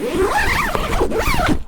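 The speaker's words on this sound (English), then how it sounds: "Make sure you zip it all the way down." A YKK zipper on a KEMIMOTO UTV soft window being pulled, a close, loud rasping zip in two quick sweeping strokes that ends abruptly.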